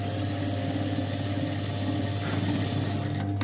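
A sewing machine stitches the side seam of a child's balloon frock, running with a steady, continuous mechanical whir and rattle the whole time, with no pauses and no talking.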